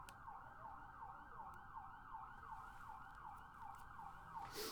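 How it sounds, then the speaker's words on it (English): A distant siren wails steadily in a regular rising and falling pattern, faint and continuous, with no talk over it. "Can you hear that siren again, Monkey Pixie Funk?"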